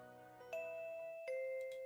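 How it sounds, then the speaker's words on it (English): A school bell in the video game Goddess of Victory: Nikke chimes softly in two sustained, ringing tones, each struck note lingering and fading. "The school bell rings."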